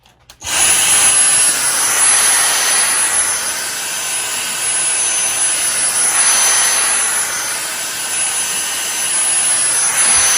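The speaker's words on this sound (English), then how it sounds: "we'll go get our little dust buster and vacuum off all that grit." A small handheld vacuum cleaner whirs loudly and steadily after a brief quiet start, vacuuming up grit, its high whine swelling slightly as it moves.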